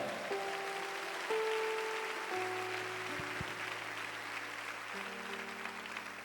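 A church congregation applauds steadily throughout, a dense even patter of clapping with sustained keyboard tones playing underneath.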